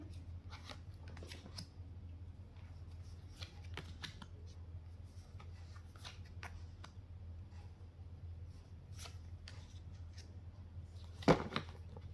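Tarot cards being drawn and shuffled: soft, quiet papery flicks and taps in scattered clusters over a low steady hum, with one sharper snap near the end.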